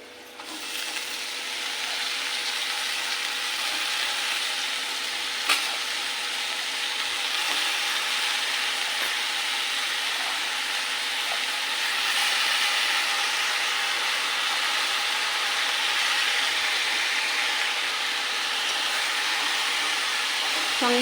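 Vegetables frying in hot oil with garlic, chillies, chana dal and salt, giving a steady, loud sizzle that runs unbroken from start to finish with no talking.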